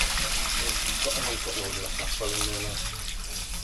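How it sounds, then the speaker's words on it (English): A toilet in a newly built house extension flushes, and water rushes and trickles away down the drain with a steady wash, while a voice briefly speaks over it. "It flushes fine, goes away nicely, and no leaks since it was first installed."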